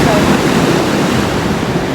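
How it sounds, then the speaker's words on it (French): Strong wind buffets the microphone over a continuous roar of crashing sea waves, loud and close, on the Vendée coast of France. "Il y a énormément de vent, énormément de vagues"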